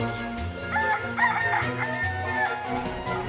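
A rooster in a video game crows several times in a row, bright drawn-out calls over a steady low musical or ambient bed, fairly loud and close with no voices.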